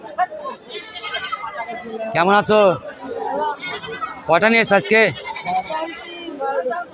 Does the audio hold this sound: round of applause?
no